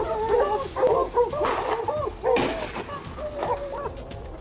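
A hunting dog on a wild boar hunt in Louisiana woods lets out a series of sharp, close barks and yips in uneven bursts, some with a whining, growly edge.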